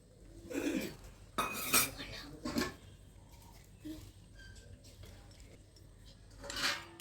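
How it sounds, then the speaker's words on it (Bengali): Cooked rice going into a biryani pot, heard as a few loud metallic clanks and scrapes of a spoon against the pot, separated by quieter stretches. "আর এবার আমি ভাতটা দিয়ে দিচ্ছি।"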